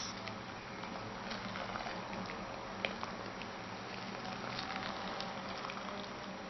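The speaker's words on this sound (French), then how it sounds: "on va verser l'eau bouillante sur les paillettes." Boiling water is poured onto soap flakes, making a steady, even hiss and fizzing bubble with faint ticks and pops, continuous throughout at a moderate level.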